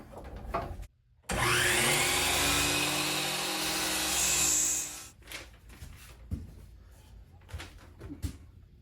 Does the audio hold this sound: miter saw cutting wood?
yes